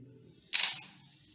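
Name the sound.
Canon EOS 60D DSLR camera shutter taking a picture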